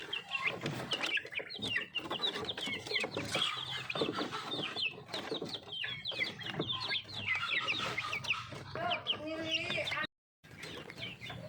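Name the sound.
Bangkok chickens being fed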